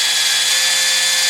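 An electric RC helicopter motor runs at full throttle, producing a loud, steady, high-pitched whine that holds unbroken and close throughout.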